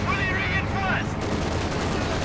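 Light machine gun fire in the strategy video game Company of Heroes 2: a steady automatic rattle runs under battle noise, with a brief voice sounding in the first second.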